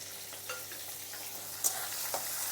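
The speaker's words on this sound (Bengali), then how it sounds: "এগুলো একটু ভেজে নেব" Green peas fry in a hot pan for a bottle gourd and prawn curry, a steady close sizzle with occasional stirring scrapes and small clicks, no talking.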